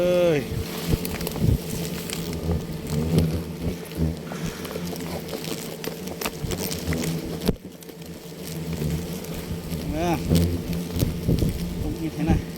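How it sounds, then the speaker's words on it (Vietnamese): Large bees hum steadily around a nest in a hole in the ground, a close, continuous droning buzz with individual insects swelling past, under intermittent talk. "nhưng mà ong này thì nó ở trong lỗ như ong bày trắng đấy"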